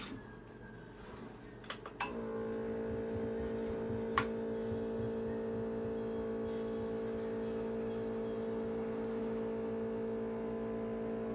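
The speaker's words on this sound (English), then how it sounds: "We are going to use the screen machine for this." After a few clicks, a phone screen separator machine used in an iPhone 14 repair hums steadily and alone at close range, a constant electrical drone for the rest of the stretch.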